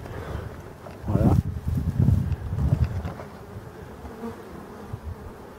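Honeybees of a forest-origin strain swarming around their hives in an apiary at the end of summer, a close, loud buzzing that swells as individual bees pass near, with a person talking nearby.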